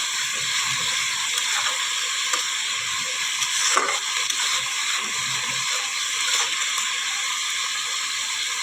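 Spice paste with ground spices and green chillies frying while being stirred in a pan, a steady sizzling hiss with occasional scraping and clicks of the utensil, close with no talk.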